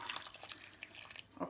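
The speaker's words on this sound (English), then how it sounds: "I will go ahead to add water I removed initially." Water goes into a large pot of fufu purée being made Nigerian party style, heard as faint close trickles and small splashes, quiet and uneven.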